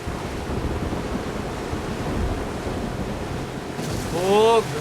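Stormy sea waves in The Last of Us Part II roar as a constant broadband wash with wind, swelling near the end where a voice speaks briefly over the surf.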